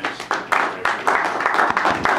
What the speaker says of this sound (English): So round of applause for Tim Leiweke